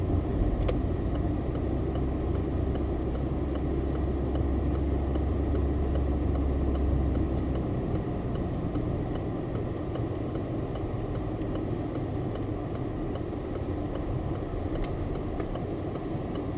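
A car rolling along city streets during a driving lesson, its engine humming in a steady low drone from the cabin with road rumble underneath and a few faint clicks, with no talk over it.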